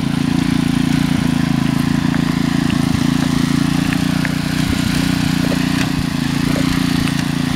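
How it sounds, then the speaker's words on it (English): Four-wheel drive power wheelbarrow with its small engine running steadily as it heads downhill, a constant droning hum with faint scattered clicks and rattles, no voices. "And we got Justin on the four-wheel drive wheelbarrow"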